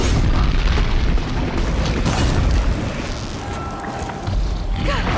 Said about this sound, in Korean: 와우! 터졌다.